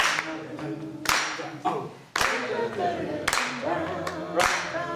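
A jazz clinic group claps hands in rhythm, with loud sharp claps landing roughly once a second on the backbeat while people sing a tune between them.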